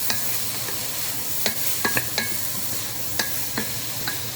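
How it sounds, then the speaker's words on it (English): A spoon stirs garlic and vegetables frying in a soup pot for Italian wedding soup, with a constant loud sizzle broken by several sharp scrapes and knocks against the pot. "I'm going to give it a stir."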